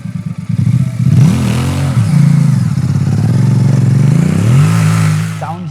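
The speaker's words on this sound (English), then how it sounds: "I really like the sound of the bike." A Royal Enfield Bear 650 twin-cylinder engine rumbles steadily and rises and falls with throttle blips, loud and close throughout with no talk.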